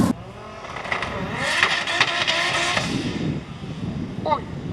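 Street-racing car doing a burnout at a Swedish street-car event, a loud roaring engine with a harsh scraping, screeching texture building in the middle, then dropping back under crowd noise.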